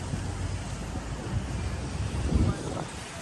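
Sea waves whipped up by Typhoon Kristine surge along the Baywalk in Aroroy, Masbate, a steady broadband roar of water and wind noise with a louder swell near the end, heard up close.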